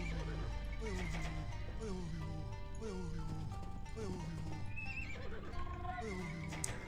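Horses neigh and whinny repeatedly in an Age of Empires 2 battle, their rising and falling calls layered over hoofbeats and constant game noise at steady loudness.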